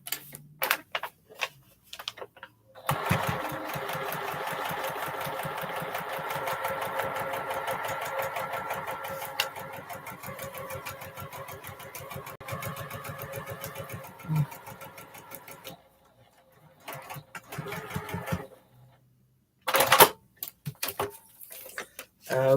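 A sewing machine stitches a colored tangles quilt, its needle ticking in a fast steady rhythm for long stretches, stopping and restarting in short bursts near the end, close by with no voices.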